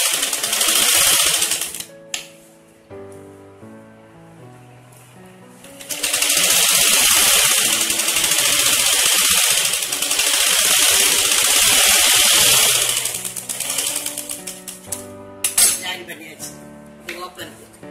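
A sewing machine stitches the folded waistband of a pant, running loud and fast in long bursts with short stops and the clack of handling in between.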